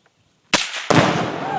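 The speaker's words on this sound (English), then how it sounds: "we're out here shooting Tannerite targets" A one-pound Tannerite target explodes after being shot outdoors. After a moment of quiet, one sharp, loud blast is followed almost at once by a second crack, then a long rumbling roll that fades slowly.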